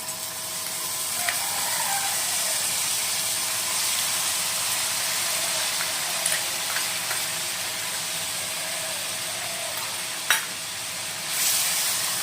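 Ginger paste and ground turmeric fry in a pan for bhog khichuri, giving a steady close sizzle throughout with a few sharp clinks and scrapes of stirring, and no talking.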